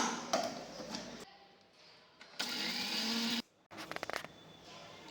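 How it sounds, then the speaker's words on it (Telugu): A mixer grinder runs in short bursts, loud whirring blasts separated by brief pauses, with a rattling, clicking stretch near the end. "మనం వేయించుకున్న దినుసులన్నీ ఇలా ముందు మిక్సీ పట్టుకుందాం"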